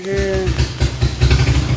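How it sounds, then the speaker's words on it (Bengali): A bus engine rumbles in low, throbbing pulses as it pulls away from a festival pandal, close and fairly loud, with a brief voice at the start. "ওই ইঞ্জিন ম্যানের আওয়াজ হচ্ছে আর কি গাড়ি ছাড়ছে"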